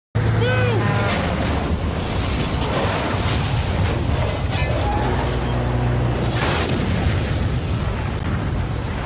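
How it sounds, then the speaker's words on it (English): A loud, continuous explosion in Marvel's Spider-Man, from a tanker crashing into a police car, rumbles through the whole stretch, with dense bursts and booming low end, while voices and effects mix in over it. "made it crash with the police car to create an explosion"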